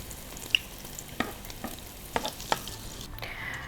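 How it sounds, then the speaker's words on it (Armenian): Oja, an Armenian dish, frying in a pan gives a faint, low sizzle with a few soft, scattered crackles and pops, heard alone with no talking. "Միջև մեր օջաները տապակվեն,"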